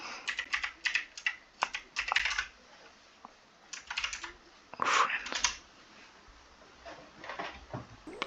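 Keys clatter on a computer keyboard in quick bursts of close, distinct taps separated by brief pauses, with faint speech in places.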